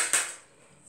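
Utensil strikes a bowl once sharply while mixing flour and salt, a quick clink of metal on the dish that fades into a faint scraping quiet.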